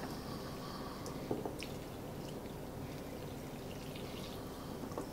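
Warm water pours into a bowl for no-knead bread dough, a soft continuous liquid trickle with small drips and a faint splash, quiet and steady without talk.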